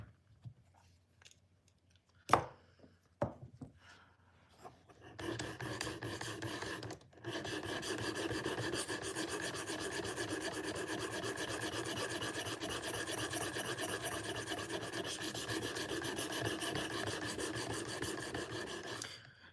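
A knife blade is drawn across a sharpening stone in a continuous rasping scrape for most of the span, after a few scattered clicks and taps at the start.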